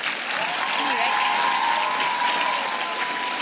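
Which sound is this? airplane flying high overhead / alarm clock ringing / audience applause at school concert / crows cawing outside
audience applause at school concert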